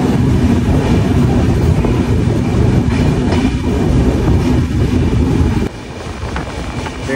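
The New Jalpaiguri–Chennai Central superfast express rolls along at night, heard from inside a coach as a loud steady rumble with rhythmic wheel clatter, dropping slightly in level near the end; no one speaks.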